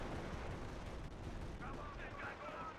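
Dense, rumbling battlefield gunfire and artillery booms roll continuously in the Company of Heroes Normandy campaign, a loud, steady wall of distant shots and blasts.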